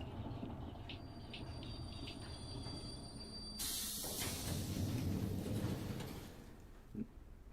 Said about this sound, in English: Ah, yes, the boring train ride